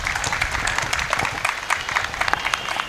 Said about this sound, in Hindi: ठंड ज़्यादा हो गई है ना, तालियों की आवाज़ थोड़ी कम आई मुझे.